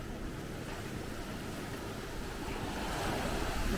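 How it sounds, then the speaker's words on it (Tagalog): Sea waves surging steadily at a harbor on Nusa Penida, Bali, a continuous broadband wash with wind buffeting the microphone, swelling slightly louder toward the end, no voices. "Ganda yung dagat dito sa harbor"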